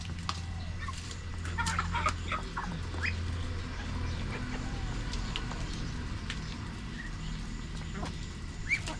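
Backyard chickens clucking nearby, scattered short clucks and calls over a low outdoor hum, with occasional faint voices in the background.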